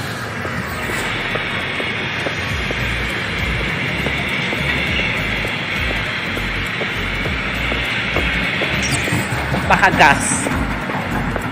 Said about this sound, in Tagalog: Tignan niyo yung freight train,